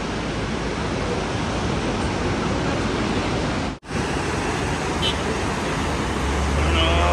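The Bum waterfall on the Tilicho trek in Nepal roars steadily and close, a loud, even wash of falling water that cuts out for an instant midway, then resumes unchanged.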